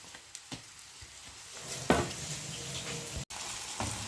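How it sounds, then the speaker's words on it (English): Green chillies and a medium onion frying in a single pot, a soft steady sizzle with a few stirring scrapes and small pops, close but fairly quiet, with no one talking. "My onions and my chilies is getting fried"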